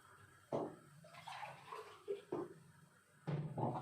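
Water poured from a glass into a cooking pot for rice in a home kitchen, heard as a few short splashing pours with pauses between them, fairly quiet and close, with no talking.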